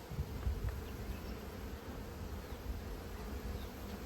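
Honeybees hum in a steady, dense drone at a cardboard swarm trap, the buzzing close and continuous with no voices.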